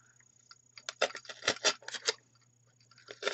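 Scissors snipping through a Pringles can, a run of sharp, close crunching cuts in quick bursts with short pauses between them.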